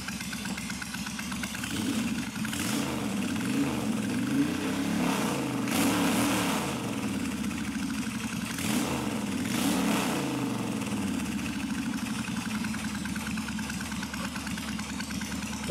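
A Suzuki Intruder 1400 motorcycle engine idles close and loud with a throbbing rumble, broken by several throttle blips that rise and fall, then returns to a steady idle. The engine has been primed at the carb and is still cold, and no one talks.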